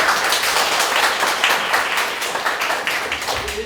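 Audience applause at the close of a three-hour hair perm theory class, a dense, steady wash of many hands clapping at close range for the whole stretch, with no talk over it.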